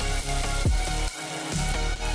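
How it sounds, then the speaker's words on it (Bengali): Two sliced onions hiss and crackle in hot oil with curry leaves and garlic, a dense, continuous sizzle with a brief stirring scrape partway through. "এবারে কেটে রাখা 2খানা পেঁয়াজকে তেলে ছেড়ে দিলাম"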